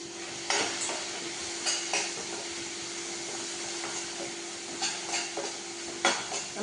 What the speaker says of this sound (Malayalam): ഞാൻ ഈ ചെറിയ അടുപ്പുമ്മ ഒരു പാൻ വെച്ച് മീൻ വറുക്കാണ്ട് മാന്തം അത് വറുക്കാൻ വെക്കാം